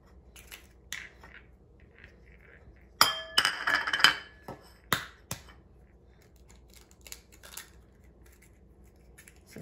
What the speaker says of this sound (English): just crack them one at a time